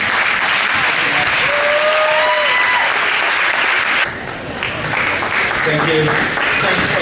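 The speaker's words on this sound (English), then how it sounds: "big applause to him" Sustained applause from a crowd at a Gran Canaria windsurfing wave event, continuous clapping that dips briefly midway and then swells again.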